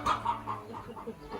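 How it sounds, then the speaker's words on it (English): Village chickens cluck in a string of close, repeated clucks with short gaps between them, fairly clear against a quiet rural background. "The chickens, especially when you live with them for quite some time and they're always making their noises."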